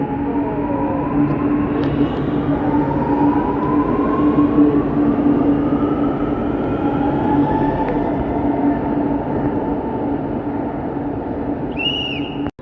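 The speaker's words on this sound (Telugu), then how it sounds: "ఒక్కసారి ట్రైన్ అయితే చూడండి, అసలు మామూలు స్పీడ్ అయితే వెళ్తాం అనమాట" A Chennai metro train runs at speed, its loud, steady rumble and rail hum continuous and close, with a rising whine sweeping through and no voices.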